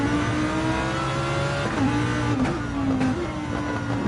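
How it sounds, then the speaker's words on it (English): A Lamborghini Huracan GT3 race car in Gran Turismo 7 at Blue Moon Bay, its engine droning loudly and steadily with shifting pitch through gear changes, continuous and close. "Very reminiscent sound here of the Lamborghini, very distinctive."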